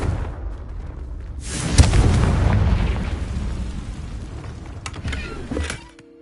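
A Confringo fire spell blasts in Hogwarts Legacy, a sudden loud explosive boom that rolls into a long rumbling roar, then thins out with a few sharp crackles before cutting off.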